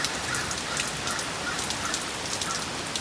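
Steady rain from the remnants of Hurricane Beryl patters densely on a sagging sunshade, a constant close hiss with scattered heavier drops.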